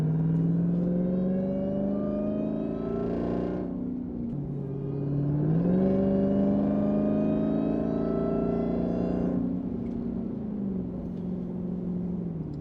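A supercharged Jeep Trackhawk engine revs in two rising pulls, its deep tone climbing with a strong supercharger whine, dropping back in between and again at the end, loud and close.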